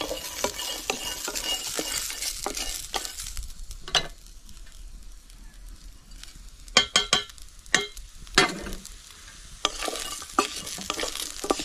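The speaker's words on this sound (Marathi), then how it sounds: "झाला आपला खमंग असा मसाला भाजून" Peanuts and grated coconut masala roast in a pan, with steady sizzling and repeated scraping and stirring clinks of a spoon against the metal, loudest in a few sharp bursts toward the middle.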